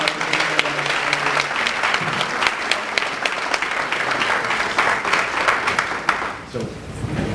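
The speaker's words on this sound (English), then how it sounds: "If you all give them a great round of applause." An audience at a Second Chance Day justice talk gives sustained, dense applause that thins out and fades toward the end, with a voice briefly speaking as it dies down.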